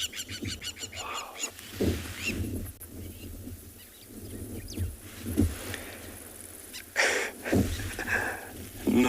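Birds give repeated harsh alarm calls while mobbing a mongoose on a South African safari. The short, raspy bursts come at irregular intervals, some near and loud, with a brief exclaimed word.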